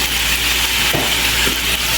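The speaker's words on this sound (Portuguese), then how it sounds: "eu vou deixar essa cebola também dar uma fritada boa" Chopped onion and garlic fry in a pan, giving a continuous close, hissing sizzle with a couple of soft stirring scrapes.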